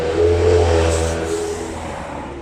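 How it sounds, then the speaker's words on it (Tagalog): A car engine swells loudly close by as the vehicle approaches, its revving drone peaking early and then easing slightly as it draws near. "Tamo, may parating na sasakyan."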